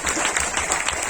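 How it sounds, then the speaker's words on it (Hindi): Audience applause at a Hindi humorous poetry recital (kavi sammelan), a dense, steady wash of many hands clapping throughout, fairly loud and close, with no speech over it. "एक बार जोरदार तालियां बजाइए"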